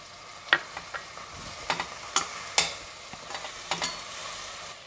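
Ginger-garlic paste and tomatoes sauté in a pan for egg biryani. A soft, steady sizzle sits under a handful of sharp clinks and scrapes from stirring, with no talk.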